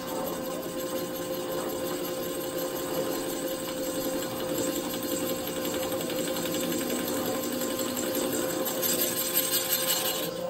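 A machine cuts about sixty thousandths of metal off the base of a part for a Stihl MS261 chainsaw, giving a continuous close whirring grind that holds steady throughout with no speech.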